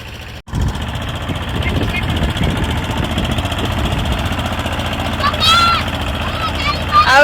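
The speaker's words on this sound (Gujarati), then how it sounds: "ટ્રેક્ટર હાકે છે" A farm tractor drives with its engine running steadily at a mid-pitched chug, close and continuous, with a brief dropout near the start and a faint squeak near the end.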